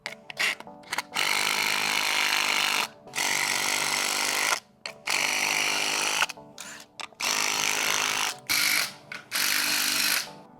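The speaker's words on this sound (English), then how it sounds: "now we're just going to go through and zap all these down so it's super secure" An impact drill fitted with a 9/16 socket drives down bolts on a backyard pool waterfall installation. It fires a series of loud, close, rattling bursts of varying length, separated by short silent gaps.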